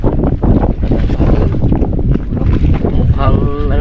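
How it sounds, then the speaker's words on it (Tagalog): Strong wind buffets a boat at sea ahead of an approaching storm, a steady loud roar with gusts against the microphone, while people talk over it and water washes around the hull. "Iba na ang hangin na."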